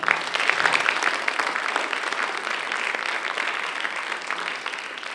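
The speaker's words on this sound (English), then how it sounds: "So if we can give those three people a round of applause as well." Steady round of applause from the audience at a competition finalists' event, a continuous wash of many hands clapping, fairly distant and even.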